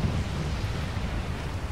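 Heavy rain pours steadily in the video game Resident Evil 4, a dense, low rumbling roar of downpour with thunder-like depth, continuous and fairly loud with no voices over it.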